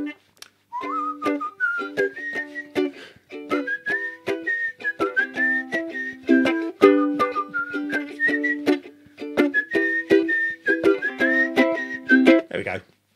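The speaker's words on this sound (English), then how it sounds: "Whistle that at the beginning there. Get a little whistle in there." A person whistles the melody of a song, the rising and falling tune carried over plucked instrument accompaniment for about thirteen seconds, clear and close.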